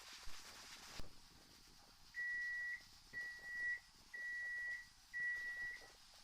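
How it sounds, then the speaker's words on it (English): A kitchen timer beeps in four steady, evenly spaced bursts, each a sustained electronic tone, after a brief thump at the start. "there goes our timer."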